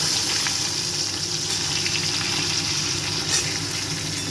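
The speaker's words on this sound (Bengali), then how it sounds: "বেগুনগুলো আমি লাল লাল করে ভালোভাবে ভেজে নেব।" Eggplant pieces frying in oil until reddish, giving a dense, even hiss that holds steady throughout with only a slight swell near the end.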